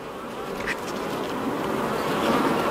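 Honeybees buzzing close around a beekeeper working a hive in gloves, a dense steady drone of many wings.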